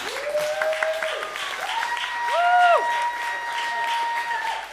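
Audience applause for performers at a live show, steady dense clapping that builds slightly toward the middle, with whoops and tonal cheers rising over it and voices mixed in.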